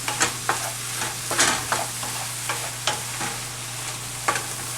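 Seafood seasoned with black pepper cooking in a pan: a continuous soft sizzle broken by regular scraping stirs of a utensil against the pan, close and moderately loud, with no voices.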